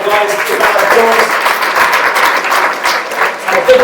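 Steady applause from a large crowd at an Under Armour event with Michael Phelps, a dense, loud wash of clapping sustained throughout, with a voice briefly audible over it.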